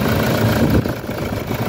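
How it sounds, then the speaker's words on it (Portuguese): 2015 Toyota SW4 engine running after being refuelled, a steady close rumbling idle with a slight dip partway through, loud and continuous with no talk. "vamos funcionar o motor, ver se ela vai funcionar"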